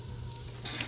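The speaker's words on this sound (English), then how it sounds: "we're going to sear these real quick" Ribeye steaks searing on a Green Mountain pellet grill, a soft, steady sizzle with some brief crackle that lasts under a second and brightens slightly toward the end.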